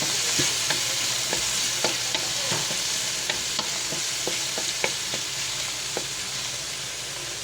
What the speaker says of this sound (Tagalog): Haluin natin hanggat ito ay lumambot.